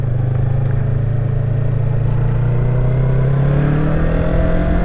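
Yamaha MT-03 (2020) motorcycle with its stock exhaust revving loudly beneath a bridge, a steady engine drone rising in pitch as the throttle opens, close and continuous with no talk.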